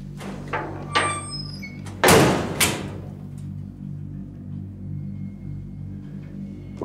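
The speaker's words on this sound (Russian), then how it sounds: "Дверь закрой." A door is pushed shut indoors, a short knock and then a solid close with a brief rattle, followed by quiet room tone and no talking.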